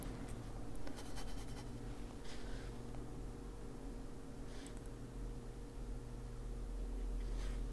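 Colored pencil drawing short lines on paper to add wrinkle details in an adult coloring book, a close, soft, steady scratchy scraping with brief louder strokes over a low constant hum.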